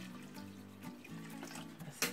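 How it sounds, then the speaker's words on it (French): Water pours steadily into a simmering sauce, a soft close splashing stream lasting about two seconds, with no talking. "Je vais encore rajouter de l'eau."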